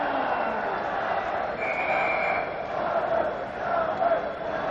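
Hockey arena crowd at the 1984 Canada Cup finals, Sweden versus Canada, keeps up a broad, steady roar of cheering that swells and eases, heard at a distance with a faint whistle-like tone riding on top.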